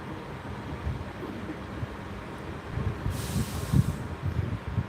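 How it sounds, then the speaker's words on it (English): A passenger train running non-stop from Filton Abbey Wood to Bristol Temple Meads rumbles from inside the carriage, a low steady rolling with rhythmic rail knocks and a brief hiss partway through. "But of course this train runs non-stop from Filton Abbey Wood all the way to Bristol Temple Meads."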